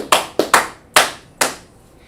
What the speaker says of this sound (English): Clap it up for Marcus.